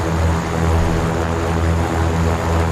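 A Cessna 414AW Chancellor twin-piston engine run-up in Microsoft Flight Simulator produces a loud, steady, droning engine roar with a low pulsing throb, continuous and unchanging throughout.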